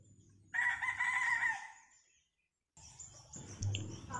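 Roosters on a cold, overcast day crow in turn: one long, loud crow up close, a pause of near silence, then another crow with softer clucking and a more distant cock answering.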